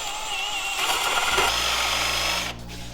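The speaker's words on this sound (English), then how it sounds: "I'm gonna drill a 3/4 inch and 3/4 hole in this" A power drill boring a 3/4 inch hole through wood, a steady loud whir and grind that holds for a couple of seconds before easing off into a lower motor hum near the end.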